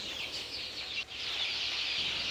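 Peruvedai lineage chicken chicks of about 200 to 280 grams chirp and peep together, a continuous high-pitched chorus from a close flock, briefly dipping once before carrying on.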